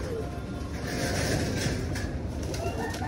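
Pigeons in a loft, with soft cooing and wing flutters over a dense, steady bed of bird noise that stays close and fairly loud for the whole stretch.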